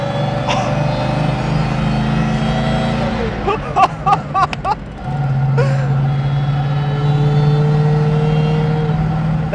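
A 1938 Mercedes 540K with a supercharged 5.4-litre straight-eight runs with a loud, droning, harmonic tone, dipping briefly before climbing back into a strong steady rev, with short bursts of voices in the middle.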